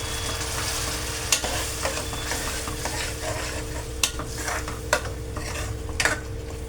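A soy sauce and ketchup mixture sizzles loudly in a pan as water goes in, with a steady frying hiss and a few sharp scrapes and taps from a stirring utensil.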